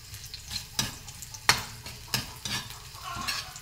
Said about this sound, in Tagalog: Nantayin tayo mag-brown ang ating bawang.